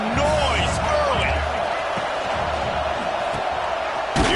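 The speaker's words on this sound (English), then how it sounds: "This crowd bringing the energy and noise early." A college football stadium crowd at a Clemson versus NC State game keeps up a loud, steady roar throughout, with a commentator talking over it.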